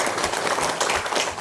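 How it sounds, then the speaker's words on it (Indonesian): Audience at a priest's 25th ordination anniversary gathering breaking into steady applause, a dense wash of many hands clapping close by, brief and continuous. "Kita beri aplaus untuk beliau."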